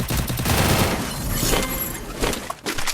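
Dense, rapid bursts of gunfire crackle from a Free Fire mobile battle royale match during ranked play, loud and continuous with a brief dip near the end.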